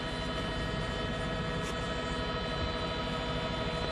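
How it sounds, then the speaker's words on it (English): A steady mechanical drone with a constant hum, like a helicopter hovering at a distance, faint and unchanging throughout. "he can hear the sound of your chopper"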